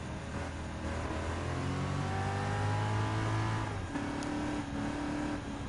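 Car engines rev and shift through the gears in Gran Turismo 7, alongside a Shelby GT350 and muscle cars, steady and loud with pitch climbing, dropping and climbing again.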